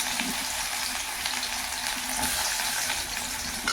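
Onions sizzle and fry in hot oil with cumin seeds in a home kitchen, a close, steady crackling hiss with occasional stirring sounds and no talking.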